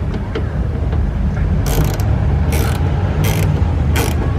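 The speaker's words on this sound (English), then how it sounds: "I'm changing to the ratchet with the drive bit." A ratchet with a drive bit turning a screw while fitting splash guards on a 2018 Honda Odyssey, giving four short bursts of rapid clicking over a loud, steady low rumble.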